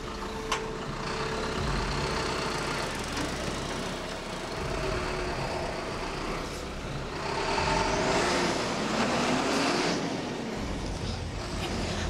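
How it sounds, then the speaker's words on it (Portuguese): A truck rumbles past on Rua Paulo Freire, a street in the Morada do Sol neighbourhood of Iranduba, Brazil: a loud, steady engine drone with broadband road noise that holds for about twelve seconds, with a short hiss like an air brake and no voices. "Esse caminhão aí passando na rua Paulo Freire."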